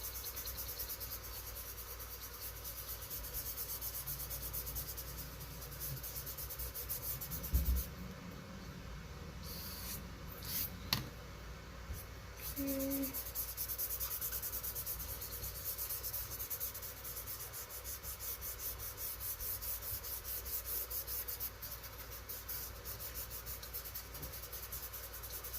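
A coloring tool rubs steadily over paper while a sugar skull drawing is colored in, producing a faint continuous scratchy friction that runs throughout with a few small knocks.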